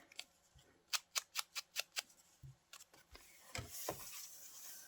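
Scissors cutting out printed digital images for a cowgirl junk journal page, a crisp run of about seven rhythmic snips close by, followed by paper rustling and handling.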